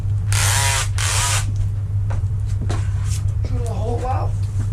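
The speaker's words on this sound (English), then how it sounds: "now we're just going to use a little drill basically to drill a hole." A small power drill boring a hole through the front bumper of an Audi A7 during a splitter install, two loud close whirring bursts near the start, then quieter mechanical handling sounds and brief speech over a steady low hum.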